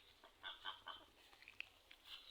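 Young chickens on a small home farm give a scattering of short, high clucking and peeping calls, faint and close together, with no talking.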